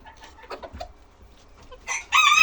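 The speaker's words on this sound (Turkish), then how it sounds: "Bu bizim beyaz horozumuz vardı." Chickens cluck softly at first, then a white rooster breaks into a loud, close crow at the end.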